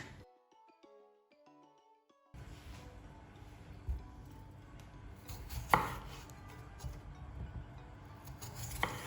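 A knife cuts peeled potatoes into medium cubes on a cutting board, a close run of steady chopping taps with a few sharper knocks, after a short stretch of soft music at the start.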